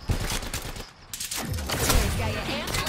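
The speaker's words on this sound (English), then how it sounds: "Where are they shooting from?" Gunfire in the video game Apex Legends, a burst of rapid shots followed by further sustained firing, loud and close, with talk over part of it.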